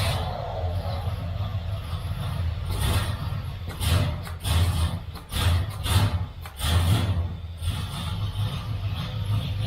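The Oldsmobile Rocket 350 V8 in a 1970 Cutlass convertible turns over and catches, settling into a deep, rumbling idle with uneven surges, close by and loud, while people talk over it.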